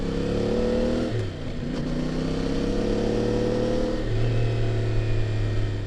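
CF Moto motorcycle engine riding along a deep forest road, loud continuous mid-pitched drone with gear shifts and throttle changes bending the pitch, heard close up without talk.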